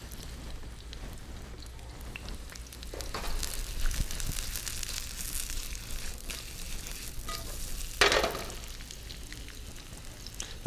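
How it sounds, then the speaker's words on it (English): Red onion sizzling in olive oil over medium-high heat, a soft continuous crackling hiss that swells in the middle with a brief louder burst near the end, fairly faint and with no talking. "It should caramelize the onions pretty quickly."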